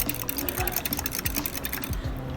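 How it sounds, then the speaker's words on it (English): An egg being whisked into buttermilk in a bowl for scone batter, a quick steady run of close whisk strokes against the bowl with no talk. "We're just gonna mix that in with the buttermilk"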